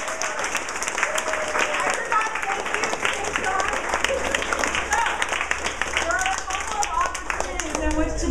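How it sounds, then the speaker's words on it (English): A crowd at an evening fundraiser event gives a sustained round of applause, many hands clapping steadily with voices and cheers mixed in throughout. "So let's give them a round of applause."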